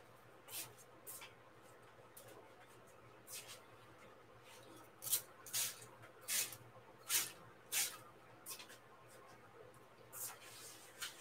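Short hissing spray bursts come in an uneven series over an acrylic paint pour on an 11 by 14 canvas, quiet and close, with gaps of near silence between them.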